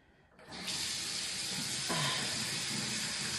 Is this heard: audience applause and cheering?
no